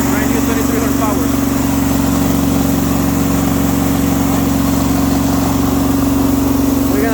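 A Hydramaster Boxxer 432 truckmount with a brand new engine runs loud and steady at a constant drone, with a person talking over it.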